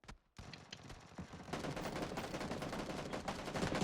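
Video game gunfire in PUBG Battlegrounds: a short burst, a brief gap, then dense, rapid automatic fire that thickens into a continuous clatter of overlapping shots.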